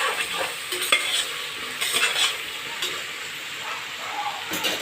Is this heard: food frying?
yes